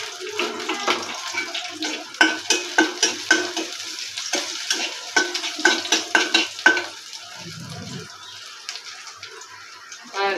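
Green chilies sizzle in a pan as they are stirred, with repeated close scraping strokes over a steady frying hiss, and a voice speaks in between.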